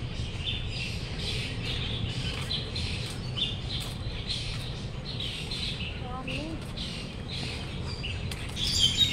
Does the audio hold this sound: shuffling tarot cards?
no